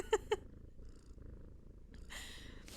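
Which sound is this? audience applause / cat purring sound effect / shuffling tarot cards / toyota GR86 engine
cat purring sound effect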